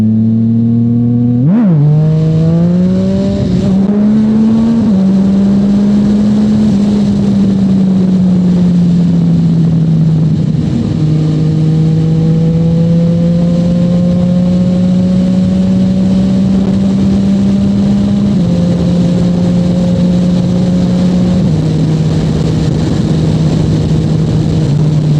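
A Yamaha FZ-09 motorcycle engine is heard from the rider's position, loud and close, with a brief rev near the start, then a sustained pull through the gears with pitch rising and dropping at shifts over wind roar, and no talking.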